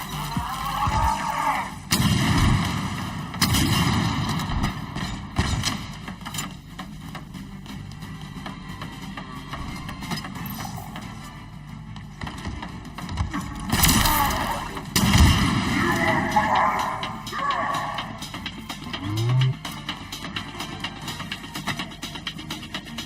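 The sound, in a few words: grenade explosion and gunfire in video game Call of Duty Modern Warfare 2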